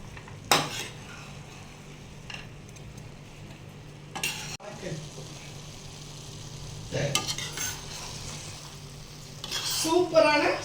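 Carrot halwa with raisins and cashews is stirred in a pan, giving a low sizzle under repeated scraping strokes and sharp metallic clinks of a spoon against the pan, louder near the end.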